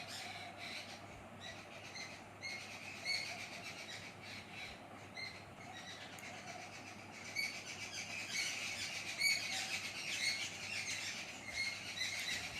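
Many birds chirping and calling together in a continuous outdoor chorus, steady and moderately loud throughout with a few sharper calls standing out, no talking.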